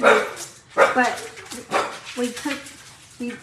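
A dog barks repeatedly in short, loud bursts, mixed with yips and whimpering, with people talking alongside.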